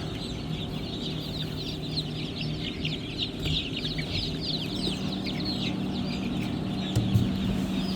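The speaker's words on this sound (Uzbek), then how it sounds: "Mana yangi jo'jalar." Many small newly hatched chicks from an incubator peep in a dense, continuous high chatter, with adult hens clucking low now and then, all close by and steady throughout.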